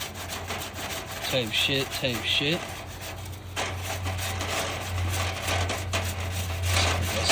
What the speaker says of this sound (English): I don't have to bend down, so I'm scrubbing.